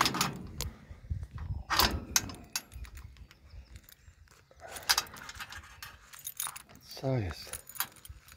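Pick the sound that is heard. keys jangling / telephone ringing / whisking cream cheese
keys jangling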